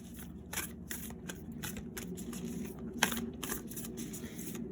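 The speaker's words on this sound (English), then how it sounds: "now let us pick 2 cards from the Chakras deck" Cards from a Chakras oracle deck are shuffled close up in a quiet room, producing rapid, riffling flutters in repeated short bursts with a few sharper snaps.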